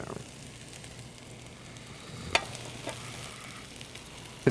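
Cooled rice tipped into a pan and stirred for pulao, a soft steady sizzle and frying hiss with light scraping stirs and an occasional clink, quiet and close.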